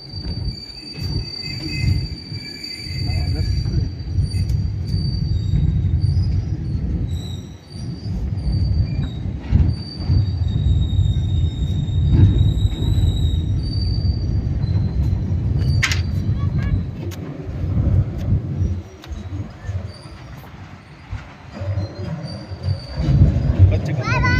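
A train rolls across a bridge on the Nagar–Beed–Parli railway line near Beed: a loud, continuous rumble of wheels on track, with thin high squeals and occasional clanks riding over it throughout.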